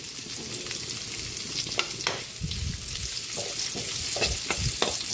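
Onion sautéing in a pan with pork, giving a steady close sizzle with short scraping stirs in the middle and toward the end, and no talking.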